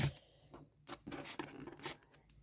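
Scissors slicing and tearing through packing tape on a parcel, a series of close irregular scratchy rasps and snips, no talking.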